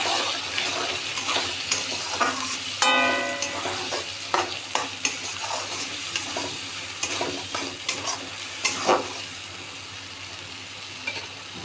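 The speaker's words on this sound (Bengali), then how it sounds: "কাজু পেঁয়াজের পেস্টটা দেওয়ার পর নাড়তে থাকতে হবে না হলে এটা কড়াইতে আটকে যেতে পারে" A cashew-onion paste with green chillies fries in a wok for egg korma, giving a continuous sizzle with repeated spatula scrapes and clatters as it is stirred, close by.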